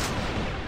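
Explosive grenade launcher fire from a mech in the online shooter Nizhan, one dense continuous booming burst that fills the short clip loudly, with no talk over it.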